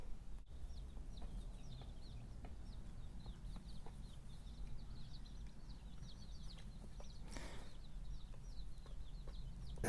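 Baby chicks chirp in a steady stream of small, high peeps, close and fairly faint over a low background hum, with no voices.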